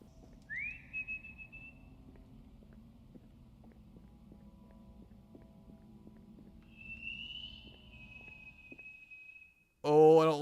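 A player character in the horror game Lost in Vivo whistles two drawn-out, rising-then-steady notes over a low droning ambience, followed by a sudden loud burst at the very end.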